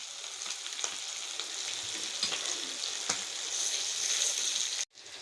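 Fish fries in coconut oil, giving a steady close sizzling crackle with occasional scrapes and pops as the pieces are turned, ending in a sudden brief clatter.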